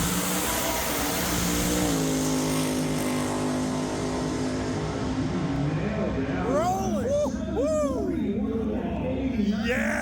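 A drag-racing muscle car at a Pontiac Nationals event accelerates hard, its engine note rising and falling over steady loud crowd and track noise, with voices heard around it.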